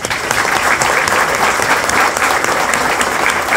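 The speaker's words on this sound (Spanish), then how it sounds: "les pido un fuerte aplauso a los que van a entregar" A large audience at an event for new association directors bursts into steady, loud applause, dense overlapping claps sustained evenly with faint crowd murmur beneath.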